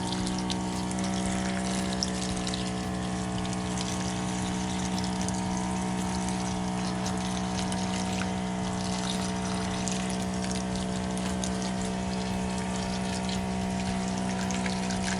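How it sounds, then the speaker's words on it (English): Solar-powered irrigation pump for an off-grid greenhouse runs continuously, a steady humming motor drone with water rushing and trickling through tubing, close and unbroken. "which runs up to the pump, and then it pumps up through the rest of the tubing"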